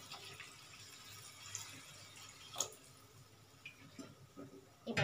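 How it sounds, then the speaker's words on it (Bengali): Hot water pours into a cooking pot over a gas flame for a fish curry, a soft trickling splash heard close and fairly quiet, with a few light clinks and a louder splash at the end. "জলটা আমি দিয়ে দিলাম"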